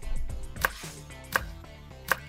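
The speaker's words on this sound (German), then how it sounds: "der macht so Apfelschnitze einfach" A knife in a LEGO animation slices an apple on a cutting board: three sharp, evenly spaced chops ring out close and crisp, with softer handling taps between them and no talking.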